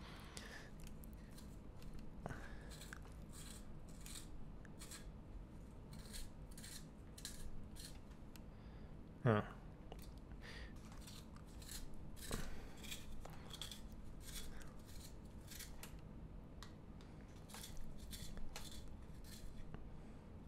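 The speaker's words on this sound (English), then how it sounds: "Shall we do the satisfying pencil sharpening in the frame?" A pencil being sharpened by hand, with a steady run of quiet, close scraping and rasping strokes repeating over about twenty seconds and one sharper click partway through.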